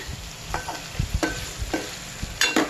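Drumstick curry with sesame and coriander being stirred in a pan, a spoon scraping in short, irregular strokes over a soft background sizzle, close and fairly quiet, with no voices.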